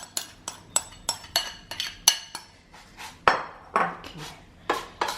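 A utensil clinks and scrapes against a bowl as Wai Wai snack is mixed with onion, chili and tender green leaves, in a steady run of sharp, close knocks with short pauses.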